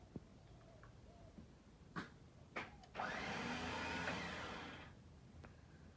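Winch motor on a DMAX pickup running on test after installation, a steady whirring drone of about two seconds preceded by a few short clicks and knocks.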